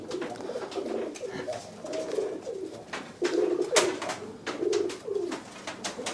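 Pigeons coo continuously in soft, throaty, repeated low murmurs close by, layered over one another with rustling and faint background voices.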